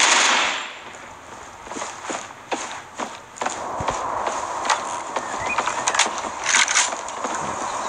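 Gunfire in the Critical Ops mobile shooter game arrives as a run of sharp, separate shots and bursts. The reports come at irregular intervals over a steady background, moderately loud, with no clear speech.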